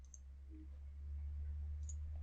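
A computer mouse clicks a few times in field-planning software, short faint ticks over a low steady hum, with no voices.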